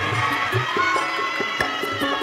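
A large crowd at an outdoor Shiv Puran religious gathering in Maharashtra claps in welcome, a broad, busy wash of applause and crowd noise with scattered sharper claps.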